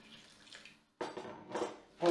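Tap water pours in short bursts into a bowl of flour, yeast, salt and sugar while making dough in a traditional village kitchen in Zheravna, with faint voices in the background.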